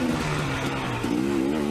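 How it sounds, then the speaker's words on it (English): An off-road dirt bike engine runs steadily on a wooded trail at Johns Peak OHV, its buzzing drone holding a constant level with slight pitch shifts and no talk. "Bike's running good."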